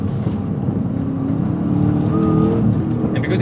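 A 2011 Chevrolet Camaro SS V8 accelerating on the road, a loud, close, steady engine roar that builds slightly in pitch, heard from inside the car with no talking.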